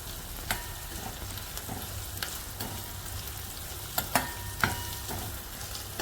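Dry garlic and ginger sizzling in hot oil for Rajasthani kadhi, a steady close frying crackle broken by sharp spatters and pops, with no talking.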